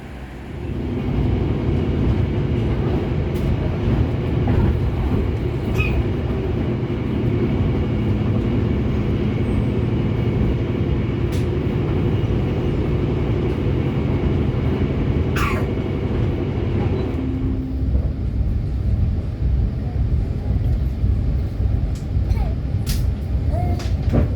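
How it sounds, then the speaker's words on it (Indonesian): Interior of the Kertanegara executive-class passenger train while riding, a steady loud rumble and rolling drone throughout, with occasional faint clicks and a brief squeal. "Kereta api Kertanegara telah tiba di stasiun Kebumen,"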